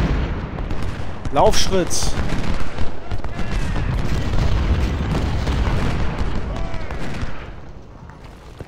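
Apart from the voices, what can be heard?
cannon artillery fire in video game Ultimate General: Civil War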